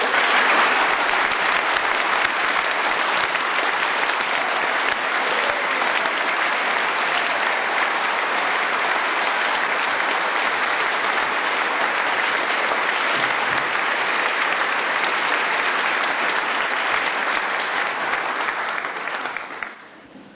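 An audience applauds to welcome author David Ray Griffin at a talk, a dense, sustained clapping from a large crowd for about twenty seconds, loud and even before tapering off at the very end.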